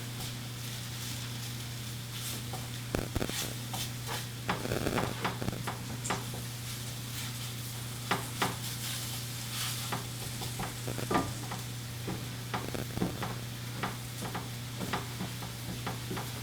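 Flour roux with mushrooms cooking in a pan, a soft steady sizzle with frequent scraping stirs and clicks from a utensil, close and fairly quiet.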